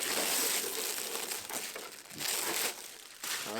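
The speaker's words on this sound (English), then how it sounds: "Get the body unwrapped here." Plastic wrap crinkles and crackles as it is pulled off the body of an Arrma Vendetta BLX 1/10 RC street car, close and busy with brief pauses.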